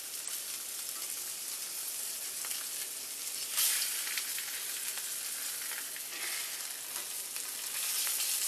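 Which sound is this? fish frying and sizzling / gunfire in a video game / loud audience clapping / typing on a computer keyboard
fish frying and sizzling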